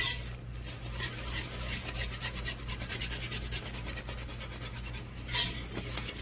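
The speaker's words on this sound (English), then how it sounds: "So you add a little more flour, stir, stir, stir." A spoon stirs mushroom-onion gravy thickened with flour in a pan for smothered pork chops, producing steady repeated scraping and rubbing against the pan bottom, close and moderately loud, with no speech.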